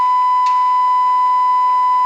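Loud, continuous single-pitch ringing tone from a broadcast error screen, steady and unbroken for the whole stretch with a faint brief click partway through.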